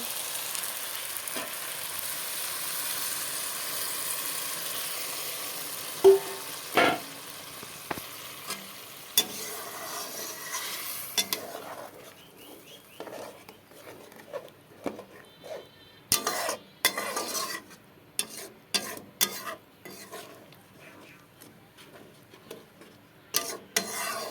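Fish and tomato curry gravy simmering in a pan, with a steady soft sizzle and bubbling throughout and intermittent sharp clinks and scrapes of a spatula stirring against the pan, growing busier in the second half.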